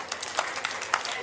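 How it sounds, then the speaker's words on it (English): Scattered, faint hand claps at a self-improvement expo talk by Marie Diamond, a few separate claps standing out over a quiet room. "Give her a round of applause."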